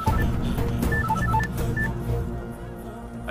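A telephone keypad is dialed, producing a quick run of short, distinct DTMF beeps, one after another, over a low background rumble before the tones stop near the end.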